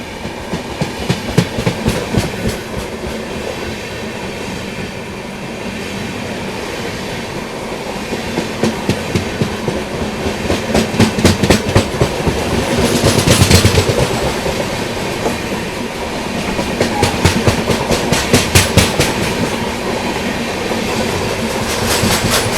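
Express train running with a WAG 9 electric locomotive, Mumbai LTT to Kakinada Port service. Steady rumble with repeated clickety-clack wheel beats over rail joints, loud and close throughout.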